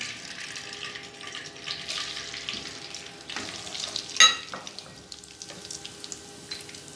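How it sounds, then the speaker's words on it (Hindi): Steady sizzling of browned onions frying in hot ghee, with occasional stirring scrapes and a brief clink partway through. "अभी इसी घी में ये ब्राउन प्याज डाल रही हूँ।"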